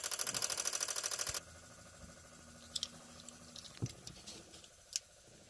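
A relay box in a 1998 Lexus ES300 chatters with a rapid, regular run of clicks for about a second and a half, then falls quiet, leaving only a few scattered faint ticks.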